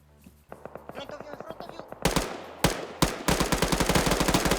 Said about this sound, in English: Pierce, shoot them, please.